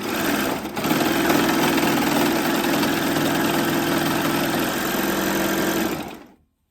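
A Baby Lock Acclaim machine sews a seam on ribbed cuffing with a close, loud, continuous motor whir. It hums evenly for several seconds and then cuts off abruptly.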